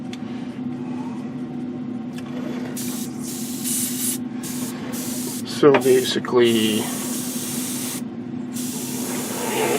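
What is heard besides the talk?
airbrush spraying paint on a scale model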